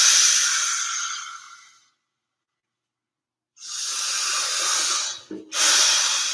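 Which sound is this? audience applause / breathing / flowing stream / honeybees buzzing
breathing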